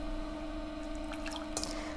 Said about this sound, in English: So I'm going to start adding my water phase.